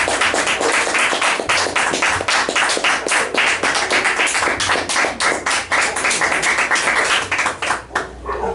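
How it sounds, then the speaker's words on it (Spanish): Audience applause fills a church, a dense run of clapping hands that stays loud and close throughout before thinning at the very end. "¿Por qué no le das un aplauso?"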